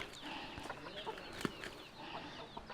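Parrot-beak aseel chickens on a breeding farm cluck and murmur at close range, with a steady low flock chatter and one sharper squawk partway through.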